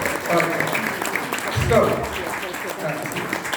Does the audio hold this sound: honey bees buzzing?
no